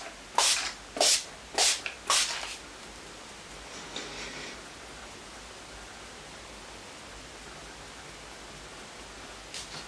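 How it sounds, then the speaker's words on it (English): Four quick hisses of Skindinavia No More Shine makeup finishing spray burst in close succession, followed by a faint softer puff and near silence, recorded up close during a summer makeup routine. "Now we're gonna set with Skindinavia No More Shine"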